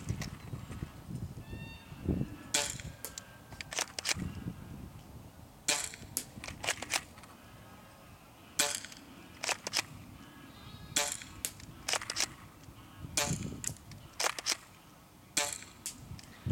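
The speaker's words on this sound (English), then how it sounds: "Let's go ahead and see what we can do human-sized target." An A&K 870 spring airsoft shotgun is fired repeatedly at a target about 50 feet away, giving sharp snapping shots at irregular intervals with quieter handling noises between them.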